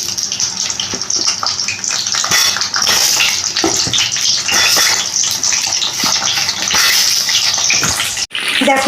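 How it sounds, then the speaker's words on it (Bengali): Pointed gourd (potol) pieces frying in hot oil in a home kitchen, a steady loud sizzle and crackle running continuously for about eight seconds before cutting off briefly near the end. "পটলগুলো কিন্তু আমি এদিকে ভেজে নিচ্ছি।"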